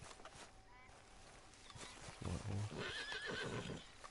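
A horse in the video game Red Dead Redemption 2 whinnies with a wavering, high neigh, preceded by low snorting and shuffling sounds, moderately close over a quiet background.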